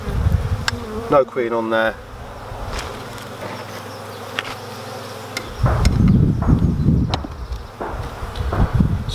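Honeybees buzz steadily during an inspection of a UK beehive, a continuous hum that swells louder in the second half, with clicks and handling noises of frames and a person speaking briefly over it.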